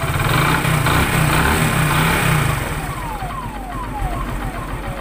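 A Hero Glamour motorcycle engine idling close by after a tappet adjustment, a steady low putter with a faint high whistle sweeping down in repeated short glides.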